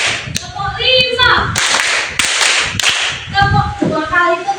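A classroom group claps along to a counted pattern during a lesson, sharp hand claps mixed with a teacher's speaking voice and children's voices, claps scattered unevenly between spoken counts.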